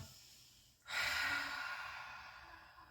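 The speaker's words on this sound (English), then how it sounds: "Inhale, exhale." A single deep breath during a seated neck stretch: a quiet lead-in, then a sudden, close, airy rush of breath that swells and slowly trails off over about two seconds, heard alone.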